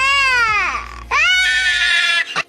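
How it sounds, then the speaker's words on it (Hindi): A cartoon white duckling bawls loudly in two long, wailing cries with a short break between them, high and sobbing, close and alone. "सफेद बच्चा खुद को पानी में देखता है और जोर जोर से रोता है"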